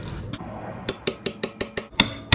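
A hammer strikes a pounding rod wedged against a 1927 Ford Model T axle during a dropped-axle install, eight sharp metallic blows in a quick, fairly even rhythm, close and loud after a quieter start.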